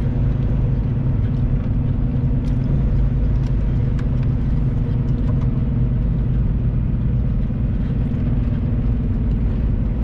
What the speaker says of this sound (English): There's traffic congested up in this tunnel,